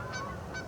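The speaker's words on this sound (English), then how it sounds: "This is a common shell duck." A common shelduck calling in a wetland, two short, nasal honking notes in quick succession, close and clear with no other voices.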